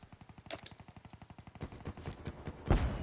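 Rapid video-game gunfire from Call of Duty: Black Ops 3, a fast, even stream of automatic shots followed by a few louder, heavier bursts near the end, no talking.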